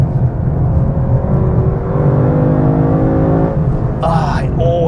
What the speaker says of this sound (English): just hearing that exhaust and the down changes